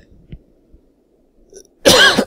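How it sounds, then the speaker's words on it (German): A single sudden, loud cough bursts out alone at the end, preceded by faint quiet rustles. "Das kam jetzt ganz plötzlich,"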